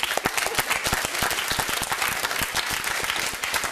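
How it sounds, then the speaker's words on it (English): Loud, steady applause from a live studio audience at the close of a televised debate on science versus religion, dense clapping filling the whole stretch without a break. "That was for you, that round of applause."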